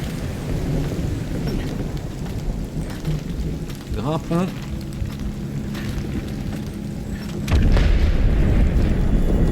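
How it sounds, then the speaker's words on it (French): A thunderstorm in the video game Shadow of the Tomb Raider: dense, steady rainfall with rolling thunder, swelling into a louder, heavier rumble near the end, while someone speaks briefly partway through. "Ah vache, il y a un orage,"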